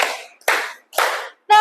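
A classroom of students claps together in bursts during an ice-breaker game, three short group claps in quick succession followed by the start of a voice.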